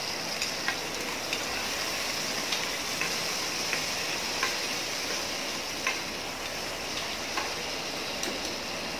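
Sliced shallots and four garlic cloves sauté in hot oil in a pan, giving a steady, even sizzle with faint crackling pops throughout, close and continuous with no talking.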